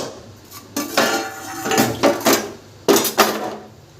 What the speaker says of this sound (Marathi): राहिलेले भांडे वगैरे हे पोळपाट वगैरे सगळे धुवून घेते तवा वगैरे